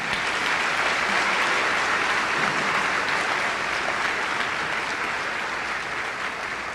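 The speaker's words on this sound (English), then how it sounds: "can I get a round of applause for the faculty, the administration, and the teachers who have brought us to this point?" A high school commencement crowd for the class of 2021 applauds the faculty with sustained, dense clapping that fills the space and fades slightly toward the end, with no talking over it.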